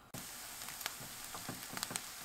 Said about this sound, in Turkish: Soğanlar yumuşayana kadar kavuruyorum.